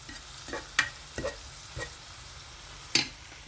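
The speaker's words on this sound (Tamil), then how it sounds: "நல்லா வதக்கணும். வெங்காயம், பச்சை மிளகா" Onion and green chilies sautéing in a pan for egg masala, a soft low sizzle broken by a few sharp spoon scrapes and knocks, spaced irregularly and heard up close without any voices.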